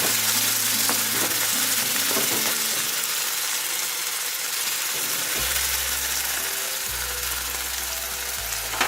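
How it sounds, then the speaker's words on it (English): Chopped tomatoes frying in a pan and being stirred, a constant loud sizzle with scraping, clicking stirring strokes throughout. "Stir a bit."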